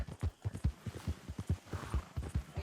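Horse hooves clip-clop in a steady, close rhythm from a horse in the Red Dead Redemption II game, with several even beats per second and no talking over them.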